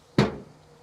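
A single solid thud of a grill lid shutting, sharp at the start and fading quickly, close by with no voices.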